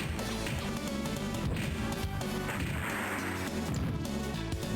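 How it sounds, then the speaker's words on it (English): A big explosion booms in the arcade-style video game Teenage Mutant Ninja Turtles: Turtles in Time, a dense crash of blasts and impacts layered over loud game music. "Big explosion."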